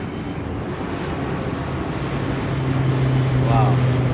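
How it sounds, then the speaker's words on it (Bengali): Airplane flying overhead near an airport beside a metro rail station, a steady broad engine roar that swells slightly louder as it passes, with no talk. "প্লেনও যাচ্ছে একটা।"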